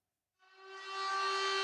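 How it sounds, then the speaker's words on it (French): Civil defense sirens of the town of Arras sound across the Place des Héros, a steady harmonic tone rising in from silence and swelling louder as it holds, with no talk. "Les sirènes de la ville d'Arras résonnent sur la place des Héros."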